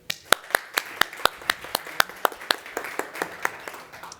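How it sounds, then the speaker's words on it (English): Clapping after a keynote introduction at an investment conference: sharp, evenly spaced claps in a steady rhythm, about two per second, close and distinct over a soft background of scattered hands. "So please give a big round of applause for Michael and his keynote."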